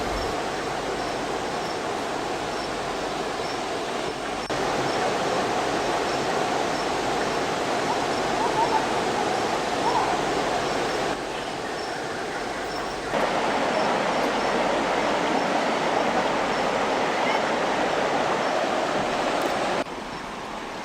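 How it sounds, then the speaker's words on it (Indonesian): A river rushes alongside a steep, rugged jungle hiking trail in the interior of Pidie, a loud, continuous roar of flowing water that holds steady throughout with only slight shifts in level. "Selain suara dan aliran sungai yang menemani suasana perjalanan kami"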